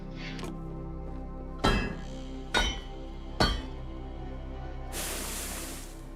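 A copper hammer is crafted in the medieval survival game Medieval Dynasty, with three sharp metallic strikes spaced evenly apart over a low steady hum. A brighter hissing burst follows at the end.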